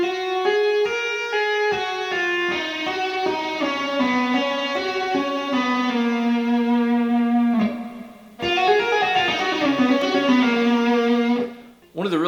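A distorted electric guitar plays a fast two-handed tapping lick, rapid legato notes ringing out, with a brief gap before the run resumes, loud and close.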